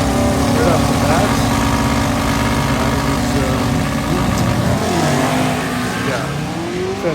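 A Pontiac GTO street car engine revs hard during testing, a loud, sustained roar that rises and falls as the throttle changes, with some talk mixed in.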